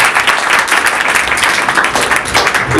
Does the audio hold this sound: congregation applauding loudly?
yes